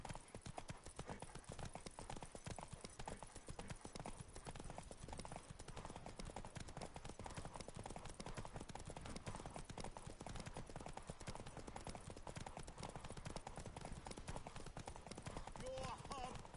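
Horse hooves clip-clop steadily and continuously in The Witcher 3, a rapid, even rhythm close up that lasts the whole stretch, with a faint whinny near the end and some talk underneath.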